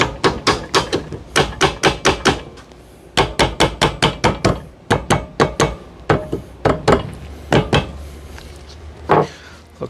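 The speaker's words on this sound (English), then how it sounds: "I'm just going to tap that with a hammer" Metal hammer tapping a carrier into the swingarm of a Honda 250X during a rear rebuild, sharp close taps coming in quick bursts of five to eight with short pauses between them.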